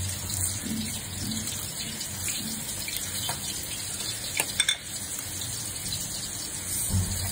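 Rice is washed by hand in a bowl of water with red, masoor, mung and soaked chickpea lentils for khichuri. The water sloshes and splashes continuously, with brief rattling stirs, close and moderately loud.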